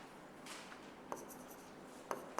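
Marker or chalk strokes on a classroom board as a formula is written, soft scratchy bursts with a few sharp taps over a steady low room hiss, close and fairly quiet.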